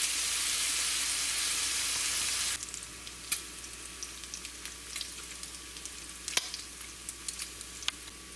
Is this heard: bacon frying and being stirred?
yes